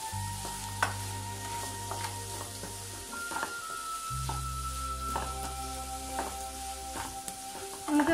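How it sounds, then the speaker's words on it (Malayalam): Onions fry in a pan and are stirred steadily until brown, giving a continuous gentle sizzle broken by repeated scraping and clinking of the spoon against the pan. "ഉള്ളി ഒരു ബ്രൗൺ കളർ ആവുന്നത് വരെ നമ്മളിങ്ങനെ ഇളക്കി കൊടുത്തുകൊണ്ടിരിക്കണം"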